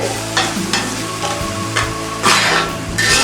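Paneer kurma masala with ground paneer is stirred and cooked in a pan. It gives a steady close sizzle with repeated scraping strokes of the spoon and brighter bursts of frying hiss. No one speaks.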